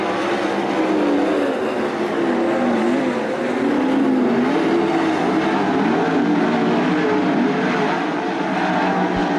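410 sprint cars racing in a heat race at Attica Raceway Park, a loud, continuous roar of engines rising and falling as the pack sweeps past, with no talking.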